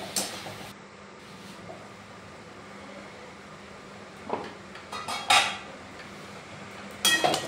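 A fig curry with dried curry leaves being stirred in a pan: a spoon clanks and scrapes against the metal in a few sharp bursts over a low steady background hum, with no talking.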